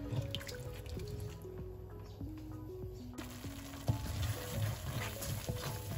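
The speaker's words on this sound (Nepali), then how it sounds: "अब यसलाई एकैछिन चलाएर म सादा पानी राख्छु।" Plain water is poured into a pot of ajwain soup, with close gurgling, bubbling drips and splashes of liquid over a low background.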